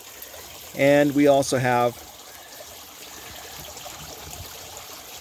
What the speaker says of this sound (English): this Water Garden bog filter here with a spillway, another spillway. As that water breaks the water, it's adding more oxygen.